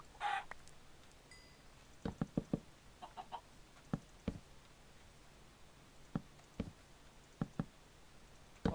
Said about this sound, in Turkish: Aa tavuk bulmamız çok iyi oldu.